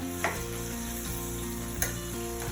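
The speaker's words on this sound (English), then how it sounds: "these potatoes are just frying in here" Potatoes sizzle steadily in a hot pan, a constant crackling fry with a few soft scraping stirs, no voices.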